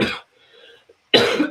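Two sharp coughs, close and fairly loud, separated by a brief quiet pause with faint background sound between them.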